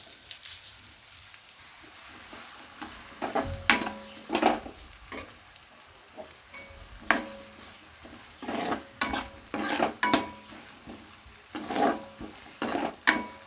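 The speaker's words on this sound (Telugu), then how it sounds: "వీటిని లైట్గా ఫ్రై చేసుకుందాం" Sliced onion and green chilli fry lightly in a pan, a soft sizzle broken by repeated louder scraping stirs at irregular intervals, close and without talk.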